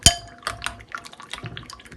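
Beans being rinsed in hot water inside a cooking pot for a bean and plantain porridge: a sharp metallic clank, then sloshing water and soft knocks of beans against the pot, close up without speech.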